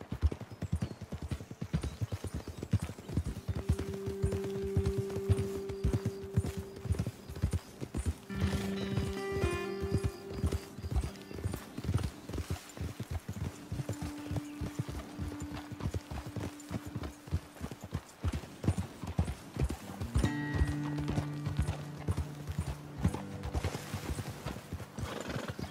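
Steady clip-clop of horse hooves in Red Dead Redemption 2, with occasional neighs and whinnies over a game soundtrack with sustained tones, continuing throughout at moderate loudness.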